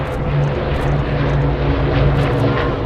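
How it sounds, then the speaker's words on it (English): Two Avro Lancaster bombers pass in formation at an airshow, their piston engines and propellers making a steady, heavy droning roar with a slight pulsing beat, loud and sustained throughout. "Coming in now on the right hand side, the mighty pair of Lancaster bombers."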